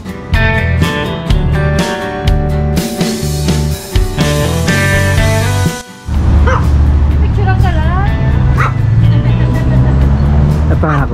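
Small dog barking in short yaps and whimpering at close range, sharp high cries repeating over music and traffic noise, with people talking nearby.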